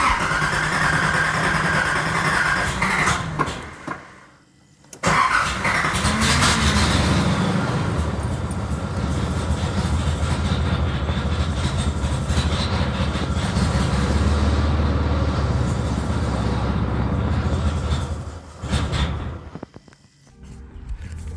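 A 1986 Nissan 300ZX engine cranks and catches, then runs at a loud, steady idle close by for a long stretch, with brief drops in sound before and near the end.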